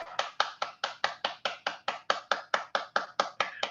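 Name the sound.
group clapping hands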